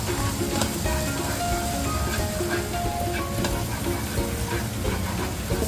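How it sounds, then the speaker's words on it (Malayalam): Vegetables for a fried rice made with taro leaves sizzle and fry in a hot pan with a steady, dense crackle, alongside faint stirring clinks, close and continuous, with no talk. "നമ്മൾ റോസ്റ്റ് ചെയ്യണം ഈ ഒന്ന് തിളക്കി കൂട്ടാം"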